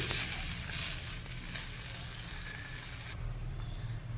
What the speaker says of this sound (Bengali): জল খুব ভালোভাবে ফুটে গেছে